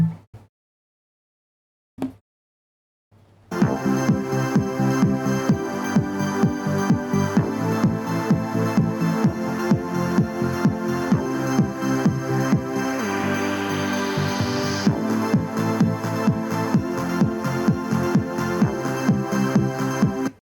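A Google Nest Mini 2nd generation smart speaker plays music with full, prominent bass. After a brief silence and a small click, the sound runs steady and continuous at close range, with no talking over it.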